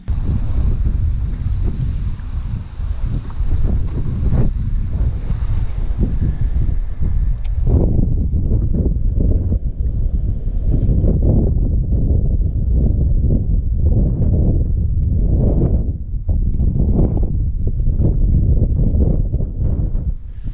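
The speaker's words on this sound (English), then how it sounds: "It's really windy out there, so it's hard to fish offshore." Strong wind buffets the microphone in a steady roar, with low rumbling gusts and water slapping nearby on Pickwick Lake.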